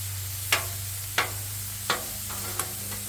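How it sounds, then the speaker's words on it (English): Hamburger meat sizzles steadily on a flat griddle while a spatula stirs it in four sharp scrapes spaced about two-thirds of a second apart, close and clear with no talking. "So let's give that hamburger another mix."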